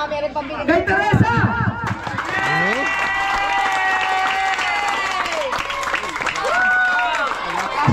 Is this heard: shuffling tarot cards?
no